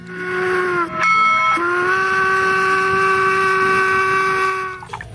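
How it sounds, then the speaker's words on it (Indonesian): A toy locomotive's steam whistle sounds loud and close as one steady, sustained tone of about five seconds, with a short break near the start, and no voices are heard. "Lokomotif kereta api."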